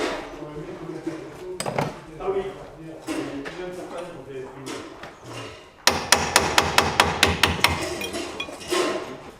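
Mechanic dismantling the front half-axle assembly of a car with a wheel-bearing noise, in a workshop: clattering metal handling, then a rapid series of sharp, loud hammer blows on metal, with voices faintly in the background.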